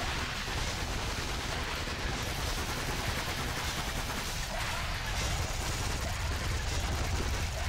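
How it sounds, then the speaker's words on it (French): Explosions fill the scene in Sanctum 2 at a construction site: a dense, continuous roar of blasts and rumbling gunfire, loud and unbroken, with no voices. "Tout a explosé"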